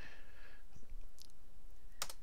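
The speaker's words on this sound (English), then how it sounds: "Seriously, I'm just clicking right there." A computer mouse clicking in a game editor, giving a few sharp faint clicks with the clearest pair near the end, set against quiet room noise with no talk.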